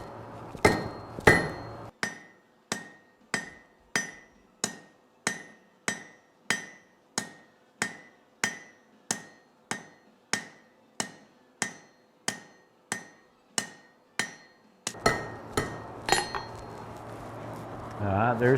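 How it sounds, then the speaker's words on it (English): Blacksmith hammering the leaf tip on hot steel at an anvil: about twenty ringing metallic blows in a steady, even rhythm, loud and close, with a few irregular strikes at the start and end. "The part I'm fixing to hammer now will be the leaf tip"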